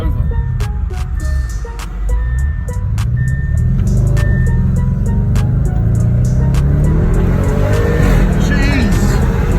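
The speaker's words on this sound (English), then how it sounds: "And you can hear the car popping off." A 750 hp Audi RS6 accelerates hard, its engine roaring louder and climbing in pitch while sharp exhaust pops crackle repeatedly over the top, loud and close from inside the car.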